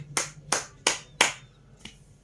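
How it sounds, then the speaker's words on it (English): At the end of a classroom lesson, five sharp, separate hand claps sound close by in an even rhythm, the last one fainter, with quiet room tone between them. "Give applause to our class today."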